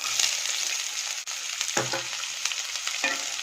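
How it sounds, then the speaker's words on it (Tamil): Chopped medium-sized onion frying in hot oil in a pan, heard as a close, constant sizzle with a few stirring scrapes and clacks, and no speech. "ஆட் பண்ணிட்டு நல்லா ஃப்ரை பண்ணிக்கோங்க."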